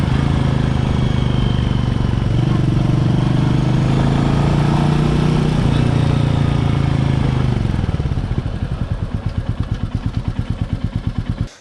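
Royal Enfield Meteor 350 motorcycle engine running steadily and loud up close, its low thrum settling after about eight seconds into a distinct, evenly spaced thumping idle pulse.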